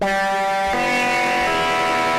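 A sustained, heavily distorted electric guitar chord through an Arturia Dist Coldfire dual distortion runs thick with overtones, shifting to a new chord partway through and holding on.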